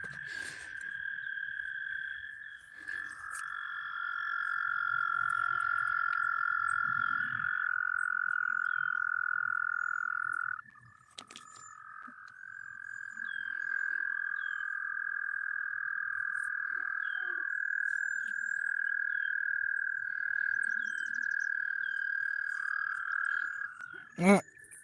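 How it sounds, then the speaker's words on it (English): A frog croaks in a steady, sustained trill outdoors at night among mosquitoes, with a brief pause midway before resuming; close and prominent, with faint scattered clicks and a distant voice. "A frog?"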